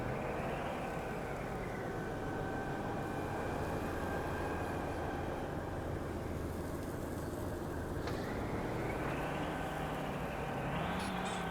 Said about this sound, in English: My truck making all that noise? I love the little, like, squeak of the bed.